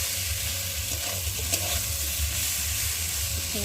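Spice paste of ginger and cumin frying in a pan, giving a dense steady sizzle with stirring scrapes and low background hum, close and unbroken, without speech.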